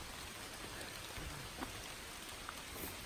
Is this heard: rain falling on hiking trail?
yes